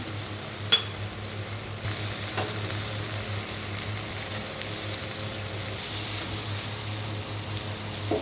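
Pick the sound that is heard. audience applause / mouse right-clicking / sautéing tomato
sautéing tomato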